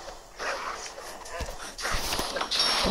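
Dogs from Kingdom Rush Vengeance, a tower defense video game, bark in a few sharp bursts mixed with game effects and someone talking.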